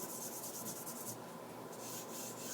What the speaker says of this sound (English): you just draw your knife across